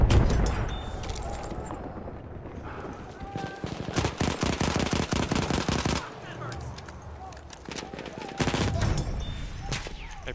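Bursts of automatic gunfire in the World War I shooter game Battlefield 1, with dense rapid fire around the middle and end, loud and close, mixed with battle noise and players talking.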